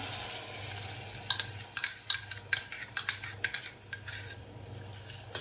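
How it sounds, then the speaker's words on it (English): A whisk clinks repeatedly against a bowl while stirring a milk and corn flour mixture into melted butter, light rhythmic taps at a steady pace, close and soft over a low hum. "you're going to stir until it becomes a smooth mixture"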